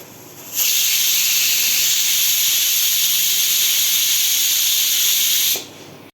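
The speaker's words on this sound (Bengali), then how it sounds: "মাংসের দুটা শীষ দিছে আরও দুটা দেবে" A pressure cooker full of beef for rezala lets out one long, loud, steady steam whistle of about five seconds that starts abruptly and cuts off cleanly, with no other sound over it.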